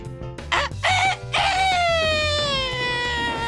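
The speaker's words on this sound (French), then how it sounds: "le coq se mit à chanter à plein poumon." A rooster crows at full voice in a long, drawn-out call that slowly fades, following a few short sharp animal calls, close and loud with no talk over it.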